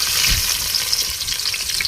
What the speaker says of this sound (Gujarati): હવે પ્યાજ નાખે છે ડુંગળી